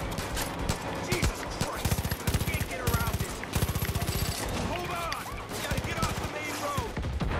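Rapid automatic gunfire from a Far Cry 5 firefight on a blocked road, dense bursts of shots with short gaps, loud and close, with voices and game sounds mixed in.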